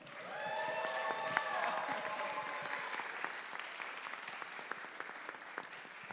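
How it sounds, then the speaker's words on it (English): Audience at a university startup pitch competition finals applauding an award winner, sustained clapping across the whole stretch, moderately distant, with a brief tonal sound early on and faint voices mixed in. "Come on, let the applause be louder."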